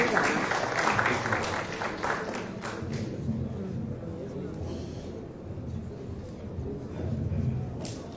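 An audience at an official anti-malaria event claps to welcome the health minister, dense sustained applause that tapers slightly and then swells again near the end, with voices mixed in.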